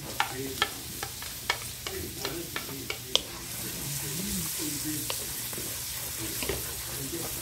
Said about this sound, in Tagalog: Lagay natin ang sibuyas, white onion.